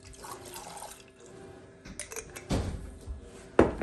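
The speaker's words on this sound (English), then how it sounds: "I have some lime juice that I'm gonna pour in there." Lime juice poured into a bowl in a home kitchen for pork enchiladas with green chilies: quiet dribbles and splashes of liquid, then a louder close splash and a clink near the end.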